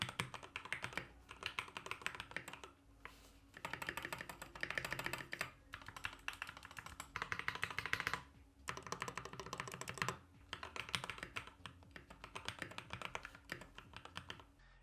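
Rapid, clacky typing on a rebuilt mechanical keyboard fitted with milky yellow switches, dense bursts of keystrokes close up, broken by a few short pauses.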